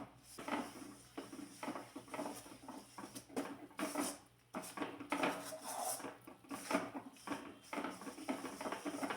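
Broken jaggery stirred steadily in a ghee-coated kadai with no water, for sesame vadi: close, continuous scraping and light clinks of a spoon against the metal pan in an irregular, busy rhythm, with no talking.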